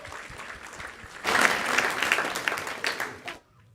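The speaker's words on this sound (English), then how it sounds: "So let's give them a big round of applause as well." An audience at a spiritual discourse bursts into a round of applause, quiet murmurs first, then a loud swell of clapping that holds for about two seconds before cutting off.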